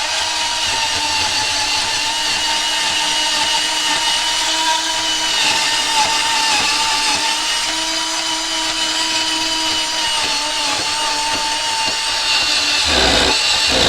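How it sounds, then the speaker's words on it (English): A bandsaw cuts steadily through the handle of a Milwaukee M12 Fuel hammer drill, a loud continuous whining grind with a sharp change in tone right at the end. "Gotta love a bandsaw for cutting."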